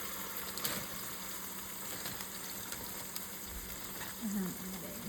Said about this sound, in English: and I'm adding 2 of those to that. And I'm just gonna let this fry down some